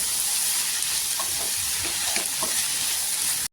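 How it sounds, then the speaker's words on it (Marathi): Dill greens (shepu) sauté in hot oil with salt, giving a steady close sizzle and hiss throughout, with a few soft stirring clatters underneath, then a sudden cut to silence. "मीठ टाकल्यानंतर पण छान अशी 2 मिनिटं इथे परतून घ्यायची"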